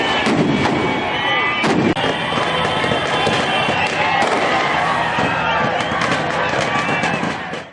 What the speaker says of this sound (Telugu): అనంతపురం టవర్ క్లాక్ వద్ద టపాసులు పేల్చి నృత్యాలు చేశారు